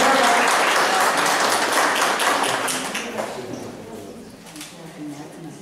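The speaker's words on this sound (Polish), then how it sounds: "Ogromne brawa" An audience at a school patriotic song contest applauds an award winner, loud clapping at first that gradually thins and fades, with scattered voices underneath toward the end.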